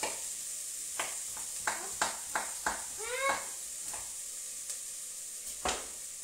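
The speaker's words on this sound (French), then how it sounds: "Je vais baisser un peu le feu parce que les oignons ils vont cramer." Onions for a homemade bolognese sizzle softly in a pan, with a series of sharp scraping stirs across the hot surface over a steady low frying hiss.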